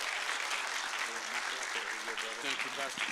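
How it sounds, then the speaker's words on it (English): Church congregation clapping in welcome for a guest preacher at a sermon, a dense, even wash of applause filling the room, with a few voices murmuring underneath. "give him a hand clap of welcome once again?"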